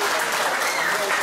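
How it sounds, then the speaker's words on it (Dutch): A crowd applauds two women at a live Dutch event, a loud, dense and steady wash of clapping that fills the whole moment. "applaus voor deze twee dames"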